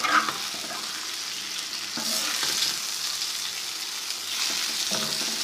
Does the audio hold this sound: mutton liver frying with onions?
yes